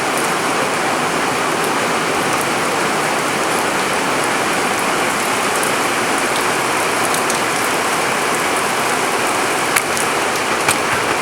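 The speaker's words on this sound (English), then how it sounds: "it's absolutely chucking it down with rain today." Heavy rain pouring continuously, a dense steady hiss with occasional louder drops, no voices.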